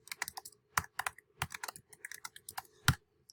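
Quick irregular bursts of keystrokes on a computer keyboard as names are typed into a document, crisp clicks heard close in a quiet room with no talking.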